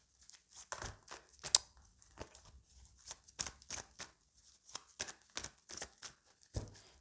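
A deck of tarot cards being cut and handled up close, a quick run of sharp papery snaps and slaps in irregular bursts, with no voice over them.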